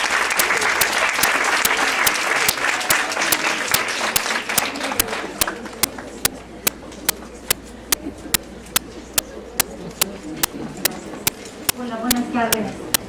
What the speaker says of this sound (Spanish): Le damos un aplauso, por favor.